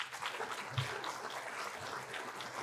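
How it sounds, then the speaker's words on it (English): An audience at an outstanding alumni awards event applauds for an honoree, a steady, moderately faint wash of clapping that carries on through the whole stretch with no talk over it. "How about a round of applause for Rebecca?"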